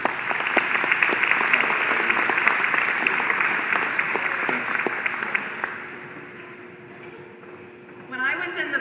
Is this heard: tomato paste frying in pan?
no